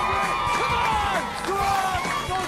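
A crowd cheers and roars at a dragster race, a dense, steady wash of voices with whoops and shouts, loud and continuous throughout.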